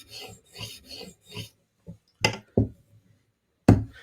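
Spyderco knife blade drawn across a stone on a Hapstone RS sharpener, a series of four soft rasping strokes followed by a few sharper, louder scrapes with short gaps between them, close up and alone.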